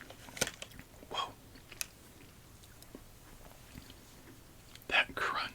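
Crunchy Christmas-themed candy is chewed right at the microphone, giving a few sharp, sporadic crunches with quieter chewing and faint breathy whispering between them.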